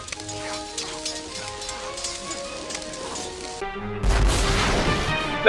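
Cannon fire in the game Escape from Monkey Island, a sudden loud booming blast with a rushing, crackling tail arriving after a stretch of background game music, close and abrupt.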